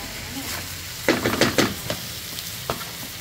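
Potatoes sauté in a pan with a soft, continuous sizzle, broken by a quick cluster of scraping, clattering stirs and a later single knock.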